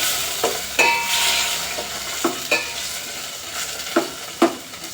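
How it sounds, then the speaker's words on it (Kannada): Chopped tomatoes sauté in a pan for a baby potato masala gravy, a steady close sizzle broken by several sharp clacks and scrapes of a spoon stirring at irregular intervals. "ಇವಾಗ ಈ ಟೊಮೆಟೊ ಒಂದು ಸ್ವಲ್ಪ ಬಾಡಿಸ್ಬೇಕು"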